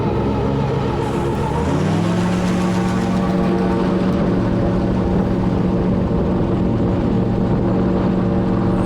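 A gyrocopter's engine and rotor drone steadily through a climb in strong, gusty wind, with a rising tone that settles into a constant loud hum and continuous wind rush.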